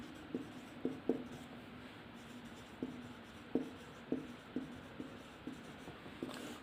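Pen strokes on paper while a chemistry class definition of organic compounds is written out, a series of soft scratches and taps at an uneven pace, close and quiet over faint room hiss.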